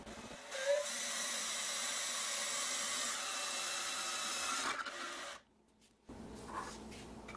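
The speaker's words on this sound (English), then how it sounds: "I've made a hole in here in the center and I've used the smallest drill bit." A small power drill with its smallest bit whines steadily for several seconds while boring a center hole, then cuts out abruptly, leaving a brief near-silence before the motor starts up again.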